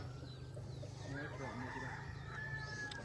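Chickens and ducks in a storm-flooded small village near Phu Phra Nang, Hin Heup, Vientiane Province, Laos, with a rooster crowing and hens clucking at moderate distance over steady low rumbling background noise.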